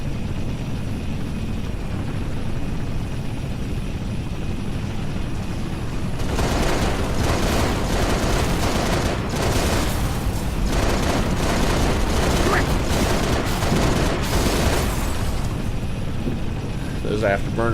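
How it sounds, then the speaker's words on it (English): Spacecraft afterburners kick in during a Halo: Reach flight sequence. A steady rumbling roar swells into a louder, rough, crackling boost partway through and stays close and heavy. "Those afterburners on, and then they kick in."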